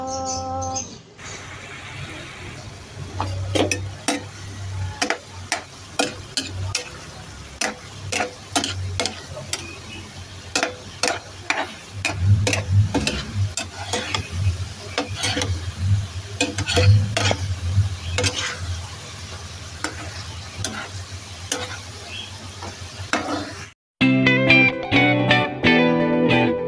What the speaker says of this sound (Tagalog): Saka naman natin halo ang linating itlog para mas malasa